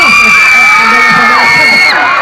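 A large crowd at a fan event in a shopping mall, SM City Davao, screams and cheers loudly and continuously, with high-pitched shrieks held steady for about two seconds before cutting off.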